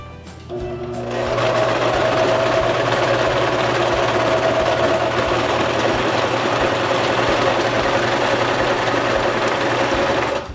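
Sewing machine running steadily while stitching a nursing cover with the presser foot lowered, a loud continuous motor hum with rapid needle clatter that starts after a brief pause and carries on without a break.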